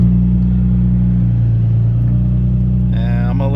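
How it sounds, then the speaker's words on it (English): A car engine idles steadily with a low, even rumble throughout, and a brief higher whine creeps in near the end. "Car is idling completely normal."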